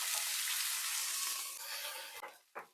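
Garlic and green chilies fry in oil in a wok, giving a broad, hissing sizzle that gradually softens, followed near the end by a couple of brief stirring scrapes or spatters.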